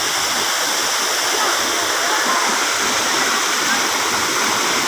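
A waterfall, the main water source, roars steadily and close with a dense, unbroken rush throughout, its hiss filling the whole scene without any pauses.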